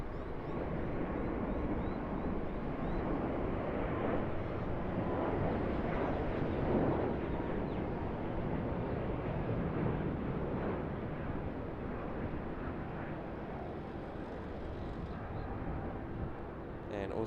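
An airliner departing Sydney Airport for Los Angeles, a steady broad jet roar held from a distance across the whole span without clear rise or fall, with faint voices underneath.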